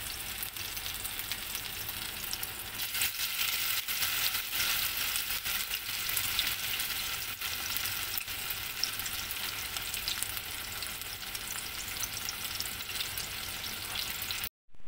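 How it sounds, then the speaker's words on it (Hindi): Peshawari chapli kababs sizzle steadily in hot oil as they fry, a dense, even crackle that runs without pause at close range with no voices over it. "इतनी मज़े की और सिजलिंग आवाज़ आ रही है इसमें कि फ्राई होने की"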